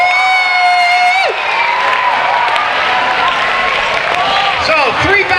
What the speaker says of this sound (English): Nice big round of applause for Rohit, Mara, and Ashley!